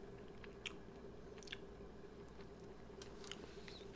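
Someone bites into and chews an A&W chili dog topped with KFC hot sauce, the close wet crunches landing in a few separate bursts over a steady low hum.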